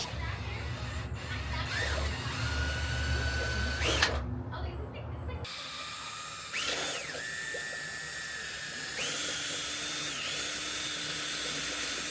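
A handheld power drill whirs steadily while mixing recycled clay, its pitch shifting between speeds over a constant low rumble, with a person talking over it throughout.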